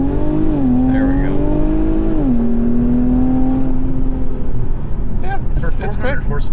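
A 2021 Infiniti Q50 Red Sport 400 AWD with 400 horsepower accelerating hard, heard from inside the cabin: a loud, steady engine drone climbs in pitch, eases, then climbs again, with voices briefly near the end.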